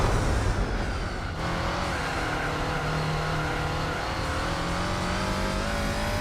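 Race car engine in Gran Turismo 4, a loud continuous droning engine note holding steady at high revs with road noise, no talking.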